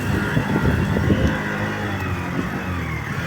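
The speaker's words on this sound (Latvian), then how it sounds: "Iesildīsim motoru sākumā." An engine idles and warms up at the start of a ride, a steady close mechanical drone with a low rumble and no speech.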